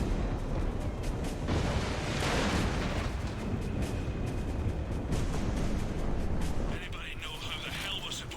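Sustained gunfire and explosive blasts aimed at the player in the Mass Effect 3 video game, a dense loud barrage of rapid shots and booms throughout, easing slightly in the last couple of seconds, with a voice briefly audible underneath.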